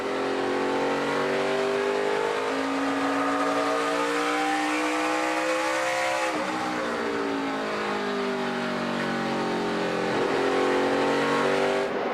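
NASCAR Nationwide Series stock cars racing at Richmond, engines roaring loud and close in a steady, continuous drone with rising and falling pitch as the cars accelerate and lift through the laps.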